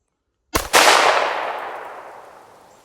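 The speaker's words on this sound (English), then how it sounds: "This was my work gun. See if I can still shoot it." A handgun fires once or twice outdoors in Bastrop County, a sharp loud crack followed closely by another, then a long echoing decay that fades over a couple of seconds.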